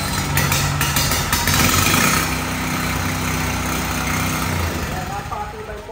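A 3,500-watt generator with an open exhaust pipe runs at a farm in Tacurong City, Sultan Kudarat, giving a steady, close, loud engine drone throughout, with some voices faintly in the background.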